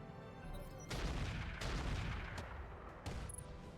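Booming artillery volleys from a Thumper turret in the RogueTech mech combat game, a dense run of heavy thuds and blasts that keeps going for several seconds, with a sharper burst near the end.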